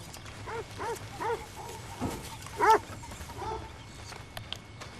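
Dog barking in the Red Dead Redemption 2 video game, a few short barks at a moderate distance over a quiet outdoor ambience, with one louder bark near the middle.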